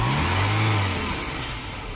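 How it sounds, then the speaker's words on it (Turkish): A Tofaş Kartal SLX i.e. car engine roars loudly up close, revving high and then easing down as the pitch drops toward idle. "Şu an arabamız gazda."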